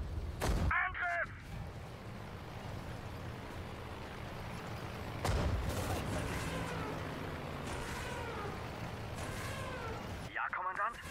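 Booming cannon blasts and bursts of gunfire ring out from a battle in the PC game Sudden Strike 4, with brief German voice barks of commands cutting in at the start and end.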